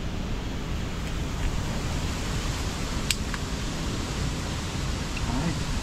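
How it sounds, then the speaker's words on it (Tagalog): Strong wind roars steadily into the microphone as a dense, continuous rush with no break, drowning out any other sounds. "grabe ang lakas ng hangin"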